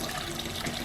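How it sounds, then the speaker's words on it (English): Hot tap water runs steadily, rinsing caustic out of a workshop sink and drains, a continuous broadband splashing rush at moderate level with no voices. "we can slowly start adding cold water in there, but we'll just leave the hot on for a while"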